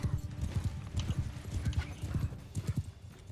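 Horses gallop in the medieval combat game Bannerlord, rapid rhythmic hoofbeats close up with a brief neigh among them, fairly faint overall.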